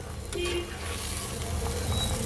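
A small splash of water hits spices frying in oil for a Bengali singi fish curry with potato, cauliflower and peas, giving a soft, steady sizzle with light stirring, close but fairly quiet.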